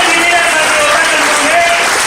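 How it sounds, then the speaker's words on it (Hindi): Audience applause at a large sales training meeting in Orissa, a dense wash of clapping that fills the short moment while a voice carries on over it. "ताली होनी चाहिए उनके लिए।"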